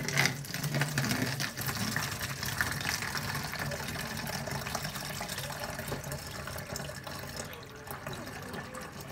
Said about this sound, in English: now I'm going to pour my sorrel into my bottle